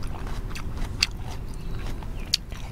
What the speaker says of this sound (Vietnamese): Đây mình cắn cái phần lõi nó ra thì nó chỉ có chút xíu đây thôi nè